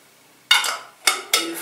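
A spoon stirring a rosemary oil mixture in a small container, three quick scraping strokes, close and fairly loud, with no voices.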